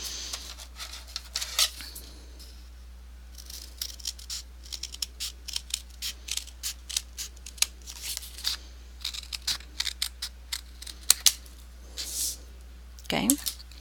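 Paper being cut with scissors for a pop-up photo album, a run of short crisp snips and scrapes in irregular bursts, close and fairly loud.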